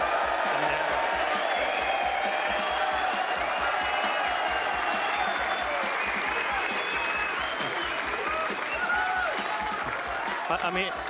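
A large snooker crowd at the 2022 Masters cheers and applauds in a loud, unbroken roar of clapping and shouts that carries on for the whole stretch, with voices mixed into the noise.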